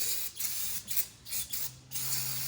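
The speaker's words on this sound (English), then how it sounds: "I'm just going to use some parts brake cleaner and just spray" Short hissing bursts of aerosol brake cleaner spraying backhoe hydraulic fittings, about five quick pulses in a row, fairly close and fairly quiet, with no voices.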